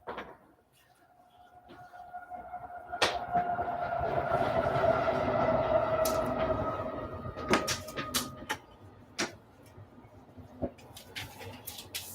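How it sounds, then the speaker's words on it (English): A train rushes past, swelling from a low rumble to a loud, sustained roar over several seconds, then fading away amid scattered knocks and clatters. "the rush of the train going by"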